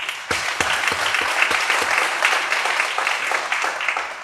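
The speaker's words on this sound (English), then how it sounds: "Please, let's clap for them, please." An audience at an academic conference claps for the organisers, starting with a few distinct claps and swelling into steady, fairly loud applause from the room.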